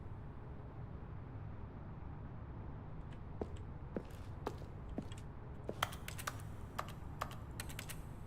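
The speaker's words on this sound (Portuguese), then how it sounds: "Por que o meu clique tem som de teclado?" Computer keyboard typing: a steady background hum at first, then scattered sharp key clicks from about three seconds on, growing denser and more rapid toward the end, close and fairly crisp, with no talking.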